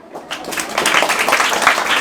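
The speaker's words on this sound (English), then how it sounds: "Can you clap for your Mwad?" A class of children clapping for a classmate, a short burst of dense, lively applause that builds quickly and holds steady for about two seconds.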